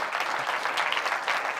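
A church congregation applauds in a brief burst of dense, steady clapping, fairly loud and close, with no voices standing out above it.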